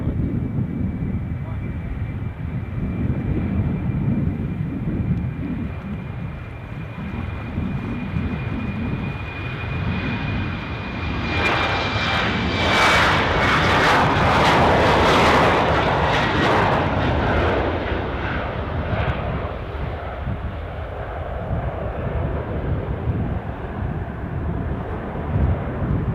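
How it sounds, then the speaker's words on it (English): An Embraer 190 jet airliner roars past at Amsterdam Schiphol airport, a broad engine rumble rising to a loud peak mid-way before easing off, with steady wind noise on the microphone throughout. "this is Embraer 190"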